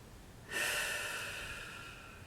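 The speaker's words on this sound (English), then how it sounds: "And breathe again." A single deep breath during a guided meditation, one long airy inhale or exhale starting abruptly and slowly fading, close and alone in a quiet room.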